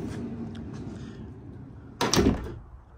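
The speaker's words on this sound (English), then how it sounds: "opening the back door feels really nice and smooth to close it" Rear cargo door of a 2024 Mercedes Sprinter 2500 cargo van swings shut with a single solid thump, close and loud after a quiet stretch of low background noise.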